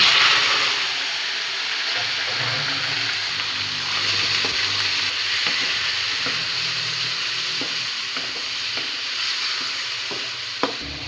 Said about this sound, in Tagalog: sasangkot siya muna natin yung ating chicken